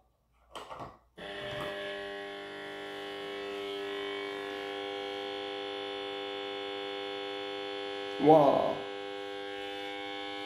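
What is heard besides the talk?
Union Auer Unalux 681 125W mercury vapour lamp starting up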